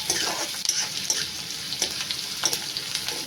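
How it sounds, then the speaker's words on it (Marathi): Onion sautéing in hot tempering oil until reddish, for a village-style wild greens dish, gives a steady close sizzle and crackle with occasional brief spatters and stirring scrapes throughout. "हा बघा, कांदा व्यवस्थित लालसर परतून घेते."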